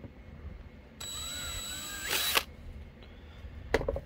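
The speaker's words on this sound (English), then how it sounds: "then I can drill those holes out" A small drill bores holes in the circuit board of a Guitar Hero strum switch, with a thin steady whine lasting about a second, then a louder harsh grinding burst, and a brief click near the end.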